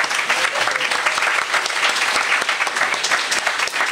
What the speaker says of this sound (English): So could we give Steve a round of applause?